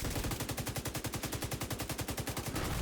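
Sustained light machine gun fire from The Division 2 video game, a steady rapid burst of evenly spaced shots lasting nearly three seconds, loud and close with no talking.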